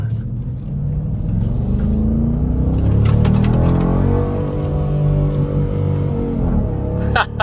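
Engine rumble building as a Dodge Durango R/T SUV accelerates hard, a steady loud roar with rising harmonics, close by, no talking over it.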